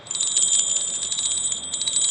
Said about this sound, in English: now, as I ring the bells